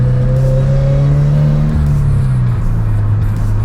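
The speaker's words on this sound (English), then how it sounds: "And you can hear the HKS catback exhaust roaring in the background" A Subaru BRZ with an HKS catback exhaust drones steadily as it drives, its engine note rising and falling slightly under a constant road roar, loud and close from inside the cabin with no talking.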